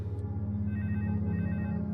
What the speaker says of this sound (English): Her private phone rang.